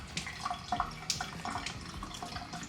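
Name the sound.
water running from sink tap to mix waffle batter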